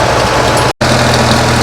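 An antique tractor engine idles loudly and steadily at a plow day in northern Maine, rough and rumbling with a brief cut in the middle, no talking.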